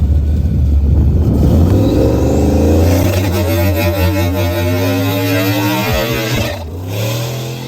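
A loud, heavy truck, a big land yacht, launches down a drag strip at full power; a deep engine roar builds and holds for several seconds, then eases off near the end.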